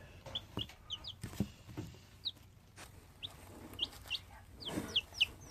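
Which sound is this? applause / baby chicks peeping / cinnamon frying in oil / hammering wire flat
baby chicks peeping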